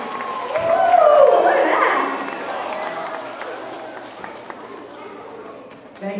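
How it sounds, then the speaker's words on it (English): Children at a school assembly clap and cheer loudly for a staff member. The crowd swells early and then fades into a lighter patter of clapping, with young voices and excited shouts mixed throughout. "Big round of applause for Mr. Borjak."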